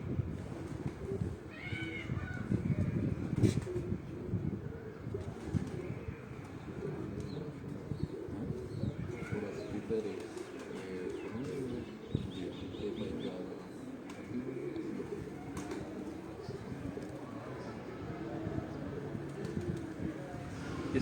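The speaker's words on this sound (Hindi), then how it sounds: "ये मेरे हाथ में आप एक कबूतर देख रहे हैं" Pigeons cooing softly and steadily on a rooftop loft, with faint chirps and other low bird sounds blended into a continuous background murmur.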